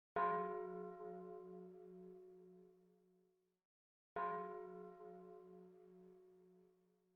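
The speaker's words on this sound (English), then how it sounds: "In the distance, church bells were ringing." Two separate church bell strikes ring out cleanly, each one a bright, resonant tone that slowly fades over about three seconds, faint and alone.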